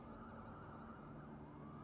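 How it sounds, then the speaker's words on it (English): Police sirens in the video game Marvel's Spider-Man, a steady wailing tone that fills the moment, heard continuously without talk. "you thought those sirens were outside your town"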